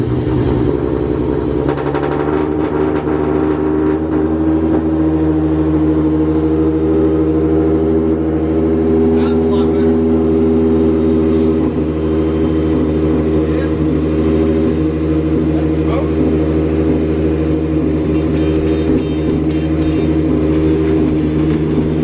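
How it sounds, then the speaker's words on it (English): A 3.7 V6 Ford Mustang engine runs and revs for about twenty seconds, a loud, steady, close-up drone with a throaty rumble and slight swells in pitch. "It sounded like a big nasty V8"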